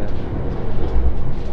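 Ka Turangga executive-class passenger train running on rails, a steady low rumble and rattle from inside the carriage, continuous and fairly loud with no voices.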